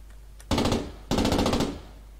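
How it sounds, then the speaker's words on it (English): A swivel ball-mount machine gun on a German tank fires in a video game: two loud close bursts of rapid automatic fire, each about half a second long, separated by a short pause. "It is a swivel machine gun, or a ball mount machine gun."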